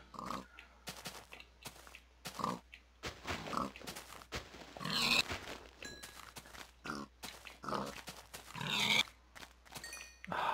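Pigs grunt and oink repeatedly in a Minecraft-style video game, with short bursts scattered throughout at moderate loudness and nobody talking.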